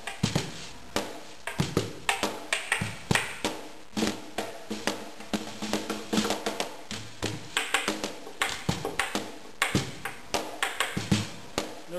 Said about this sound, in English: wire brush kind of things that are up against the bottom head of the snare drum to give you that fuzzy bzz type of sound